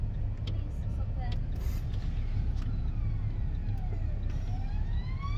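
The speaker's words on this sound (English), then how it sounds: "Ambulance." An ambulance siren heard from inside a moving car, its faint wailing sweeps rising and falling in the distance over steady low road and engine rumble, with no talking.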